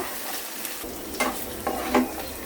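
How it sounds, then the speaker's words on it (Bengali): Ginger garlic paste stirred into frying onions in a pan, a continuous sizzle broken by a few distinct spatula scrapes and knocks, close up and alone. "এখন দিয়ে দিচ্ছি একটু আদা আর রসুন বাটা ভালো করে মিশিয়ে নেব"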